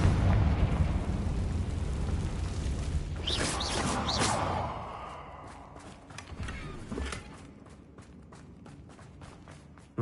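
Confringo fire spell blasts in Hogwarts Legacy inside a cave held by Ranrock's loyalists: a rumbling, fiery burst with crackling debris and whooshes fades into quieter clatter and scattered sharp taps.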